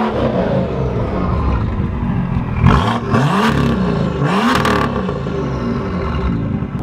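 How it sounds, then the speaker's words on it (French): A modified BMW M2's engine is revved hard several times in quick succession, each blip rising into a loud snarling roar and falling back, over a steady idle rumble close to the car. "Tu me fais rugir un peu le moteur?"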